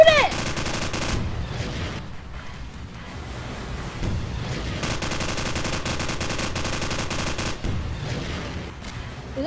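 Gunfire aimed at a zombie: long, loud bursts of rapid automatic fire with brief pauses between them, sustained across the whole stretch.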